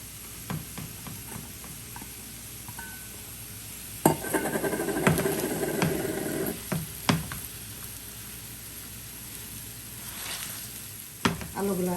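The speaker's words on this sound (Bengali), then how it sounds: "আলুগুলা দিয়ে দিলাম, এখন আমি ভালো করে ভাজি করে নিব।" Mashed potatoes frying in a pan with a cooked spice paste for a Bengali tuna fish dish, with a steady sizzle and bursts of stirring and scraping against the pan.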